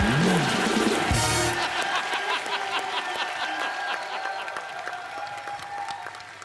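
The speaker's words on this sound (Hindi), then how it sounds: "तालियां बजाओ बच्चा के लिए" A studio audience on The Kapil Sharma Show breaks into loud applause, a brief laughing cry at the start, then dense continuous clapping that rolls on for several seconds, slowly easing.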